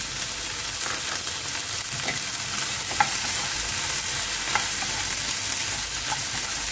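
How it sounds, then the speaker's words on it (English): French beans and green peas sauté in a pan for hara bhara kabab, a steady dense sizzle with a few sharp pops and light stirring clicks, close and continuous with no talk. "saute for some time"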